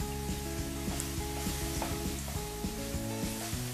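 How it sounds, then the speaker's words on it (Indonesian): Ground spice paste fries in a pan for a quail egg soup, giving a steady, close sizzle with soft stirring scrapes over a constant tonal background hum. "Kita goreng hingga wangi"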